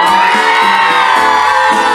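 Audience at an outdoor tea-picking song festival concert in Toufen, Miaoli, screaming and whooping together, a loud, dense, continuous roar of many voices that fills the whole moment.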